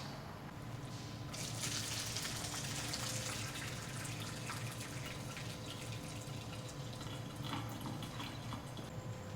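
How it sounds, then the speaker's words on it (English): Boiling water and macaroni poured from a pot through a colander in a kitchen, a loud continuous splashing gush that runs steadily from start to finish, close to the microphone, with no voices. "we poured the boiling water, the macaroni, through this colander"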